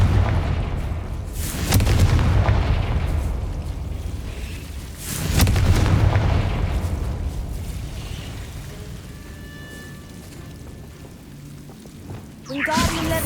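Confringo spell explosions in Hogwarts Legacy, two heavy booming blasts a few seconds apart with rumbling decay, followed by quieter game ambience and a sharp burst at the end.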